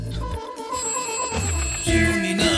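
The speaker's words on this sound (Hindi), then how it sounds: "फोन बज रहा है" A phone's electronic ringtone plays a bright, repeating melody, fairly loud and steady throughout.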